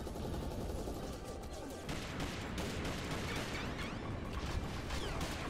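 Rapid gunfire rattles through a zombie and robot monster-hunting shooter game, dense continuous shots with crashes and bursts layered over one another at steady loudness.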